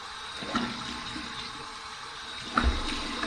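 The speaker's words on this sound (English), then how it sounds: "Here's my warm water rinse." Warm tap water runs and splashes during a rinse after a wet shave, a steady flowing wash with a couple of louder splashes near the end.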